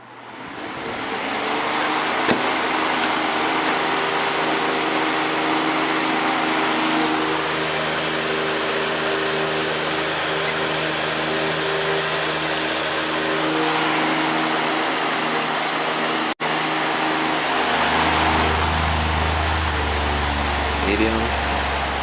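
Vintage Patton electric fan running on high speed, a steady loud whoosh of air with a constant motor hum that continues unbroken throughout, close by.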